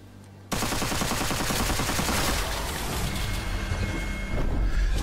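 Fully automatic gunfire from a small-magazine weapon in the Witchfire video game, a loud, continuous rapid burst that starts abruptly and hammers on without pause.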